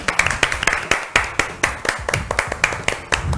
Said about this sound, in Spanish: Aplauso para Sofía.